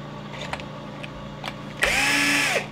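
A power case trimmer cuts brass cartridge cases to length, a steady whirring burst starting partway through and holding near and loud, after a few faint ticks and clicks.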